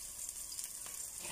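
Garlic sizzling and frying in a pan, a steady, close hiss with faint crackles throughout and no talking.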